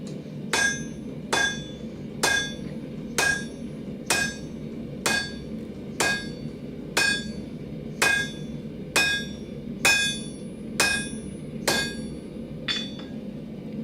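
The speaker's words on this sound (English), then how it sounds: "this hammer." A blacksmith's hammer striking hot steel while forging S-hooks for a firepit, about a dozen sharp ringing blows in a steady rhythm, each with a bright metallic ring, close and loud with no talk.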